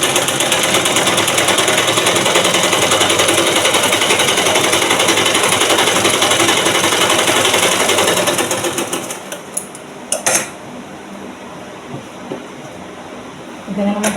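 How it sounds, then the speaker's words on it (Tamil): A sewing machine stitches two pieces of blouse fabric together in a steady, dense whir lasting about nine seconds, close and loud, then stops, leaving quieter handling sounds and a couple of sharp clicks. "இப்போ இதை என்ன பண்ணணும்னா நம்ம தச்சு எடுத்துக்கிடுவோம்."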